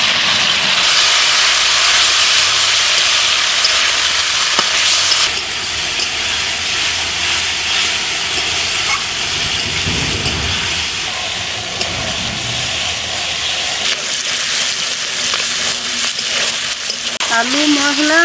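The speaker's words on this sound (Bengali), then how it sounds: "আলু মশলা আমার ভাজা হয়ে গেছে" Potatoes frying in hot oil with ginger-garlic paste, cumin-pepper spice paste and salt, a loud steady hiss and sizzle that softens midway, with occasional stirring scrapes and a faint whistle near the end.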